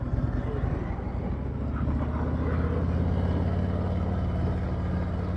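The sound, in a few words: motorcycle riding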